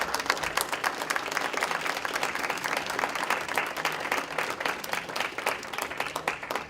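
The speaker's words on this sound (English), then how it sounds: "put our hands together and give her a round of applause for her courage" An audience at a mayor's public safety forum applauds steadily, a dense patter of many hands clapping at a constant, fairly loud level throughout.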